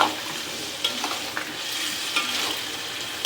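Ghonia fish curry with tomatoes and green chilies is stirred in a hot pan, giving a steady sizzle with a few louder scrapes of the spoon at irregular moments, close and with no talking.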